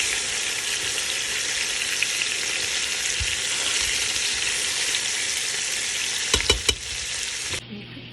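Chopped ginger and garlic frying with vegetables in a hot pan, giving a steady, loud, close sizzle throughout with a few brief stirring knocks near the end before the sizzle cuts off.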